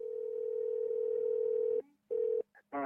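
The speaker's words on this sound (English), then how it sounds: "We checked into our hotel and tried calling Kathy and Amanda again." Telephone ringback on an outgoing call: a steady tone rings for nearly two seconds, pauses, then sounds again briefly before the line clicks, heard alone and fairly quiet.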